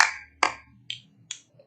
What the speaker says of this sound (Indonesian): Kalau kau suka hati, tepuk semuanya.